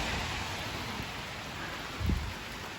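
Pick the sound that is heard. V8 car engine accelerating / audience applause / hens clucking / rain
rain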